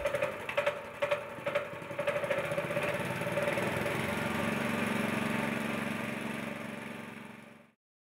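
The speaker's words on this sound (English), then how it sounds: "The ground technician starts the pump engine." A small pump engine on a wind turbine gear oil exchange system sputters through a few pulls, catches, and settles into a steady running drone before cutting off abruptly.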